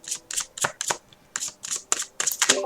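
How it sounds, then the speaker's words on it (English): Tarot cards being shuffled loudly by hand, a rapid series of crisp riffling bursts roughly every few tenths of a second, close and dry with no talking. "I'm going to mute my mic because I shuffle so loud."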